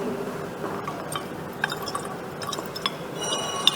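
Water is poured into a 250 ml measuring flask holding dissolved sodium carbonate salt, giving soft, irregular drips and a thin liquid trickle against glass that is quiet and close.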